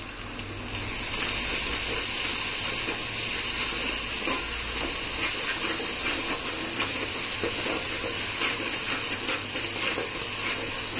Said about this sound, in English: So to this I am going to add this ginger garlic and chili paste